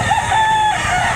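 A rooster crows at an outdoor chicken market in Lipa, Batangas, one sustained, close and loud call over steady crowd murmur.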